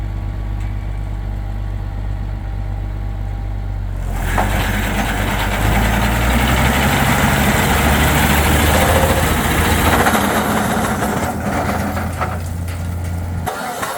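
The engine of a tough old 1979 tractor rumbles at idle during a pecan harvest. A low steady drone is heard up close, then louder rattling and shaking join it midway through, with no voices.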